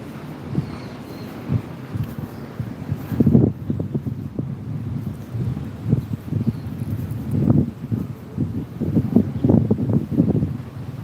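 Wind blowing outdoors on a hot, sunny day in Hong Kong, a steady low rumble buffeting the microphone, with gusts swelling and fading throughout.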